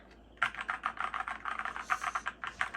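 Rapid, clacky keystrokes on a Keychron K4 v2 mechanical keyboard, close and crisp, typed in a quick, uneven rhythm with no voices.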